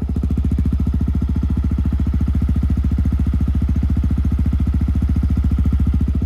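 A Yamaha WR 155 supermoto motorcycle fitted with a GP7 exhaust idles close by, a loud, steady rapid low thumping with no talk.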